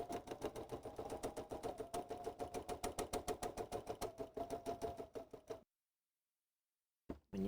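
Sewing machine chain stitching a run of half-square triangle quilt units, a fast steady rhythmic needle clatter for over five seconds that stops abruptly into silence before a brief resumption at the end.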